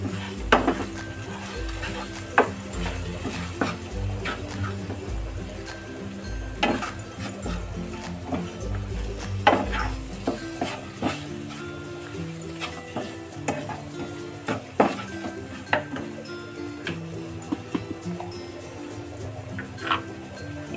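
Homemade masala being stirred into Dhaba-style chicken gravy in a pan, a steady scraping and clinking of a spoon against metal over a continuous sizzle of frying, close and moderately loud, with no talking.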